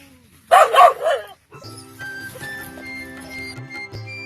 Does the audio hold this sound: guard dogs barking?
yes